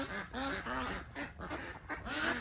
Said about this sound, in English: The ducks and chickens back here